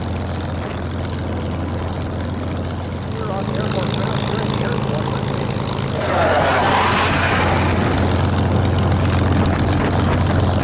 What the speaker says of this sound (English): as soon as the engine starts on one of these World War II fighters